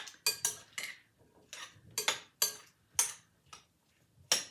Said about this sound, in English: All right, so then I'm going to stir.